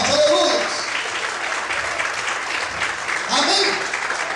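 A church congregation applauds loudly to praise God, giving a sustained wash of clapping throughout with voices mixed in.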